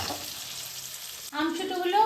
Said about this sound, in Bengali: আমসুটোগুলো ভাজা হয়ে গেলে